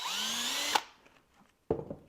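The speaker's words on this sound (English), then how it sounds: "We're gonna do a quick drill" A power drill with a bit bores through material while fitting an LED light kit to a Traxxas TRX4 K10 High Trail RC truck; one steady whining run stops abruptly, followed by a short clatter, close and fairly loud.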